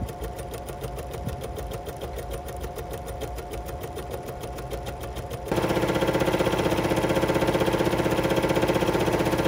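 Bernina sewing machine stitching fabric with a clear embroidery foot, a steady close mechanical whirr of rapid needle strokes that speeds up and grows louder partway through, no talking.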